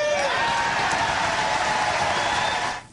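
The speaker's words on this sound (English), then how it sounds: "Big applause." A Republican event audience breaks into sustained, dense applause, loud and continuous before cutting off at the end.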